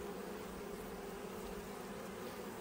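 Honeybees buzzing steadily at close range while a subarctic hive is opened for inspection, a continuous dense drone with no voices over it.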